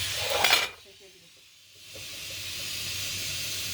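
Chopped onions sizzle in a pan while eggplant kavurma is being cooked, with a loud hissing burst at first that drops away, then a steady frying hiss that returns and holds, under a brief voice.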